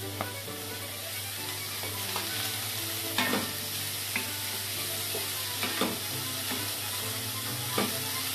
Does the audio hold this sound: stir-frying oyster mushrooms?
yes